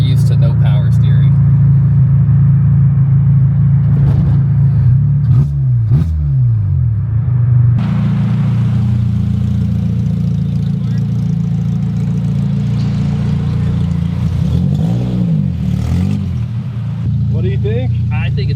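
A Toyota MR2 with a K24 engine swap on its first drive: a loud, droning exhaust hums steadily, rising and dipping as the engine revs through gear changes, close and continuous throughout.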